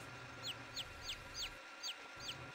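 Chickens cluck in short repeated calls at a store in a farming video game, a steady run of rising chirpy clucks over a soft constant background hum, fairly quiet and with no talk.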